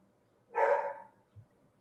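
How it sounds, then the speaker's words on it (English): One sharp, close dog bark rings out alone in a quiet room, followed by a faint low thump a moment later. "That would be one of my 3 dogs going bark, bark"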